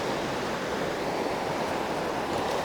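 Creek water flows steadily in a continuous broadband rushing wash, with no voices over it.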